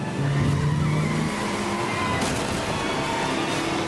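Car tires skidding loudly through a tense scene in the Atoman movie trailer, a sustained squeal over engine roar and a dense, steady background with no one talking.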